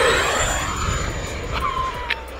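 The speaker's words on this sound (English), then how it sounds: "That's an 80mm EDF in runner motor, baby, on 6S power." An E-flite F-16 Falcon RC jet with an 80mm EDF inrunner motor on 6S power roars past with a steady, loud turbine-like whine and rushing air that slowly shifts in pitch, with no talking.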